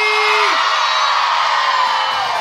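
A crowd of people at an outdoor group photo scream together on cue in one loud, sustained, bright shout that fills the whole moment, with no talking over it.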